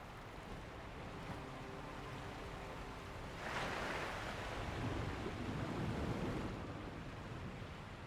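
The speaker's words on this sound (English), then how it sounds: "It's where the waterfall is, so I just need to find that." A waterfall at the watering hole in Sekiro: a steady, faint rush of falling water with a broad hiss that swells briefly in the middle, with no voices.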